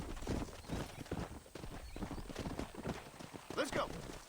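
Horse hooves clip-clop in the Red Dead Redemption video game, with a whinny near the end; a voice talks over the hoofbeats at low volume.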